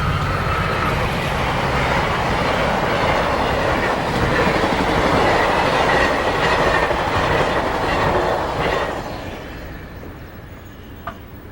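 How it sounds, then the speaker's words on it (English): A westbound Amtrak passenger train on the Santa Fe line rumbles past up close with steady clickety-clack and wheel roar, loud and sustained for most of the clip before quickly fading away. "train number 3, the westbound Amtrak,"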